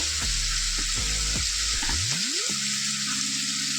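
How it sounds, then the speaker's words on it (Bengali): Spice paste with a little water and grated ginger cooks in a pan for a fish dish, giving a steady hiss and sizzle, with a few clinks and scrapes of a utensil stirring. "অল্প একটু জল দিয়ে আমি এই মশলাটাকে কষিয়ে নেব"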